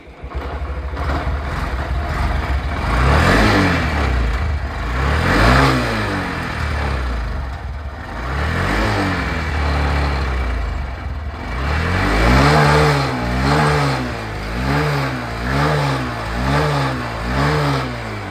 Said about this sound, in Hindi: गाड़ी स्टार्ट हो रही है।